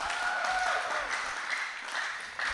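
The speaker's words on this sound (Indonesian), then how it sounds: "Tepuk tangan saja." Audience clapping at a church anniversary quiz event, a steady wash of mixed applause from a crowd with some background voices, moderately loud and continuous for a couple of seconds.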